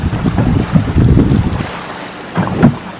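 Boat out on the open sea near an oil platform off Tuxpan, Veracruz, with steady wind buffeting the microphone and a low engine and water rumble swelling twice.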